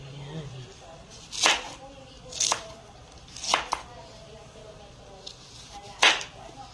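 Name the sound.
knife slicing mango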